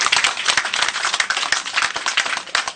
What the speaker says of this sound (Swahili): Simpige makofi.